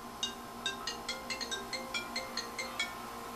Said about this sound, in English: Oh, that's my work phone.